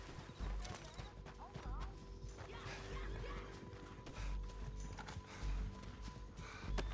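Horse hooves clip-clop unevenly over a busy background in the video game Red Dead Redemption 2, with a horse whinnying and voices talking intermittently throughout.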